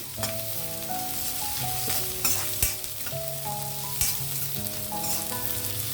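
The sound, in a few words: spices and cumin seeds frying in oil for mint rice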